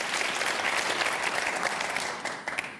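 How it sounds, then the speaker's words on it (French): Studio audience on a French TV game show applauding a contestant named David, a dense, sustained burst of clapping that tapers off toward the end. "Applaudissements pour David"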